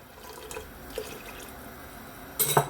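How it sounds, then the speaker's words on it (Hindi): Water is added to a pot of urad dal lentils in a home kitchen, with a few faint drips in near-silence before a short, bright splash of pouring near the end. "थोड़ा सा पानी इसमें मैं और डालूंगी।"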